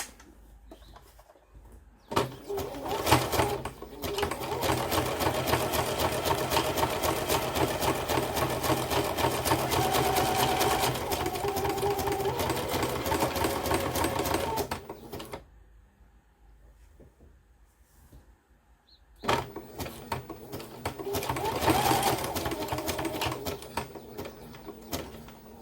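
A sewing machine stitches a cast over stitch along the edge of a junk journal cover, running in a steady rapid whir for long stretches, pausing briefly, then starting again close up.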